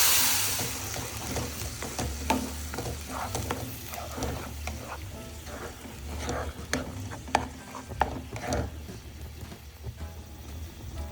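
Tomato puree simmering and sizzling in a pan of pasta, a steady close frying hiss broken by occasional sharp scrapes and clicks of a utensil stirring.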